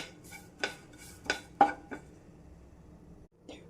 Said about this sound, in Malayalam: ഇനി നമുക്ക് സ്റ്റൗ ഓഫ് ചെയ്തിട്ട് ഇത് നമുക്കൊരു പ്ലേറ്റിലേക്ക് മാറ്റാം